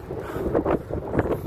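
Wind buffets the microphone in low, rumbling gusts that swell and fade over a constant breezy roar, on a bike ride along the Jeddah waterfront, Saudi Arabia.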